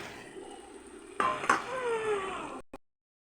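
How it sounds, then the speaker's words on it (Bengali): Fried potatoes tipped into a cooking pan: a faint background hum, then a brief soft clatter and scrape of pan and utensil with a light sizzle before it cuts to silence. "এই দেখো আলু ভাজাটা দিয়ে দিচ্ছি আমি"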